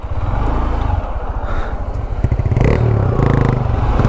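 A TVS Rider BS6 motorcycle races a Honda Shine BS6 in a drag race, its engine droning loud and close with a rough, pulsing exhaust note that rises as the bike pulls away, with slight clatter and no talking.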